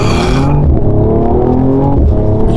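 A Mercedes-AMG E53 with a 450-horsepower engine accelerates hard, heard from inside the cabin as a loud, continuous engine roar with rising tones that swell for a couple of seconds.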